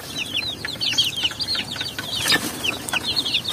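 Free-range chickens cluck and chirp repeatedly in a quick, busy stream of short calls over soft outdoor background noise, fairly close, with no talking.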